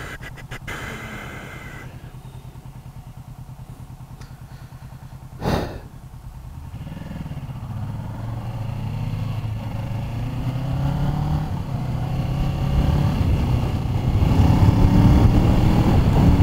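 A motorcycle cruises along a Los Angeles road at around 50 mph, a steady engine and road rumble that builds gradually louder, with one brief sharp burst midway.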